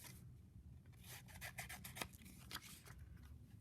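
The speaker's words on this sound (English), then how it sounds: "I like to cut rectangles out first, so I don't have to deal with the whole piece of paper." Scissors cut through paper in short, repeated snips and rasping slices, faint and close, with no one speaking.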